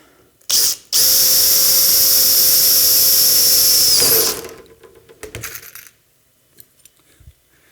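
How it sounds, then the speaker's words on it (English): A drill breaks through a polycarbonate plastic panel, giving a loud, steady high whine for about three seconds that ends in a rattle. Brief clatters and handling noise come before and after it. "This plastic makes it seem loud when I finish drilling the hole as it rattles like that"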